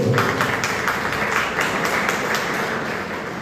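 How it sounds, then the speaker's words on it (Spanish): Audience applause for a school rector at the close of a teachers' conversation forum, a steady dense round of clapping held at an even level from start to finish. "Un aplauso para el rector"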